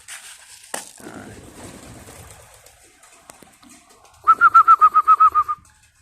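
Pigeons kept at home coo in a quick run of about ten even, rhythmic pulses near the end, close and fairly loud, after a stretch of quiet rustling and faint background noise.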